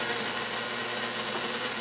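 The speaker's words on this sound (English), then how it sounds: "Okay, so now we have just the sound of the coil." A homemade Tesla coil's discharge gives a steady, loud, broadband hiss with a faint low hum beneath, continuous and unbroken for under two seconds.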